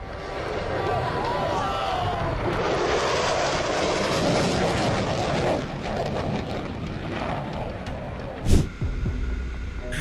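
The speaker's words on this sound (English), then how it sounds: "An F-18 Super Hornet performs a high-speed pass at Deke Slayton Airfest, La Crosse, Wisconsin." An F-18 Super Hornet jet makes a high-speed pass at an airshow, a loud, sustained roaring rush of jet noise that swells and slowly fades, with a brief sharp thump near the end.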